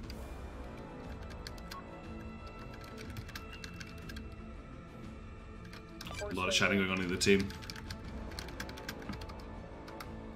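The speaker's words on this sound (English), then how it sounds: "it's just that my keyboard's really loud" Loud computer keyboard typing during an online Nebulous Fleet Command team game, a steady patter of clicks under game sounds, with a voice talking in the clip.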